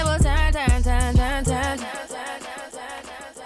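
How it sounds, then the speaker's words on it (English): Dance track with thumping kick drums is hit with a one-beat DJ echo; the beat drops out midway and the repeating echo tail carries on alone, fading over the last seconds. "that is the one beat echo."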